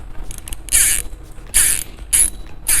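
Drag on a full-metal multipurpose fishing reel for sea or pond use, giving four short bursts of crisp, high ratcheting clicks with brief pauses between them, close and bright, with no voices.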